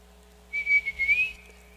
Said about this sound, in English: and then a whistle, soft,